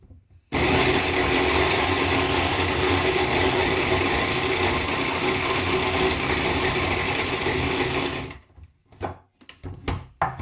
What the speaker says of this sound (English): 1 cup of these into a blender.